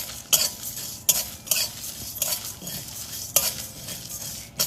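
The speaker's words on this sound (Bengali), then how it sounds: "এবারে ভালো করে একটু নেড়েচেড়ে একটু গরম করে নেব।" Four dry chillies and spices are stirred and heated in a pan, a soft sizzle punctuated by about five sharp spoon scrapes and clinks against the metal at roughly regular intervals.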